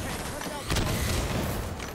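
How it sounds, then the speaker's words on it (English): A grenade blast in Halo 5: Guardians during a Slayer match on the map Regret gives a sudden loud boom that rolls into a dense rumble of gunfire and explosions lasting to the end, all with constant game noise underneath. "And I've thrown that grenade right up there."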